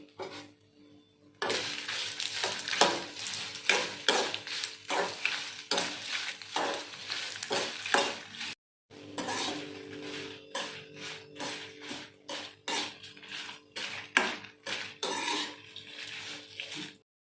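Horse gram roasts in a pan with a little oil and dried red chillies for a spice powder, stirred with a utensil: repeated close scraping and clattering strokes in an uneven rhythm, broken by one brief pause, with no talking.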